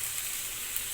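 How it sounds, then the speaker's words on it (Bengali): Diced pieces of a large potato fry in oil with a soft, even, continuous hiss, steady and close with no talking over it. "আলু কাটা ভেজে নেব তেলের মধ্যে।"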